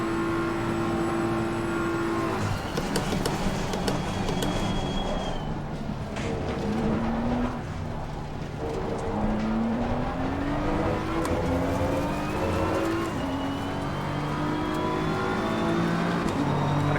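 Race car engine in the Assetto Corsa Competizione sim racing game, revving steadily and loud throughout, with rising pitch sweeps as it accelerates through the gears and brief dips on downshifts, no talk.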